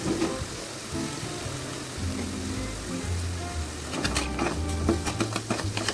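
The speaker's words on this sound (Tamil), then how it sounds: "பாருங்க, நல்லா ஃப்ரை ஆகிட்டு வருது" Spices with ginger garlic paste, pepper and salt fry in a pan, a steady close sizzle with light stirring scrapes and clicks that grow busier toward the end, no voices.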